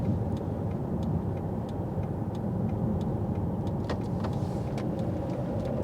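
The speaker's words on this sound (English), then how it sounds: "Five-cylinder engine." Steady low rumble of a Volvo V60 D5 2.4-litre five-cylinder diesel running, heard from inside the car with faint ticking clicks, constant and moderately loud throughout.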